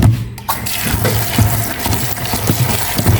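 Water pours into a cooking pot over sliced ingredients and salt in a steady, close, splashing gush with a low rumble underneath, continuous for the whole stretch with no talking.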